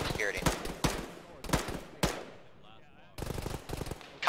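Gunfire in the Arma military shooter, played by ShackTac: sharp, loud rifle shots repeat in irregular bursts and single cracks, a few trailing off with echo, while radio-style chatter runs in the background.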